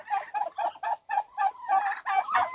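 A turkey gobbles close and loud in a rapid string of rattling bursts that repeat almost without pause for over two seconds.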